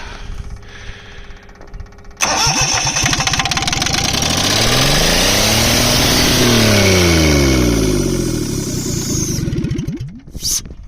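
A diesel Perkins 103-10 engine in a Cushman Truckster cranks and catches, then runs loud and rough for about eight seconds with a knocking, uneven note before shutting down.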